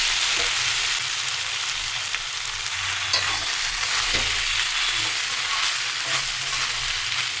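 Restaurant-style fried rice with vegetables, soy sauce and spring onions tossed in a hot pan, a steady broad sizzle with repeated scraping and tapping of a spatula.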